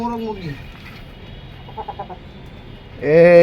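A rooster and hen at a pigeon market, loud harmonic clucks and squawks at the start and again at the end, with softer chicken sounds in between.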